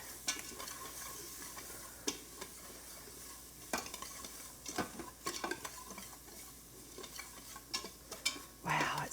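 Dry grits toasting with smoked paprika in an Instant Pot, close soft sizzling under repeated scraping stirs of a utensil against the inner pot, with sharp clicks throughout and a louder clatter at the end.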